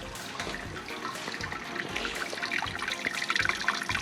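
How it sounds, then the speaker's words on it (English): Water trickles and splashes gently and steadily onto a wet bed of brewing grain, close by and continuous, with no voices. "That is gently just putting water on the top."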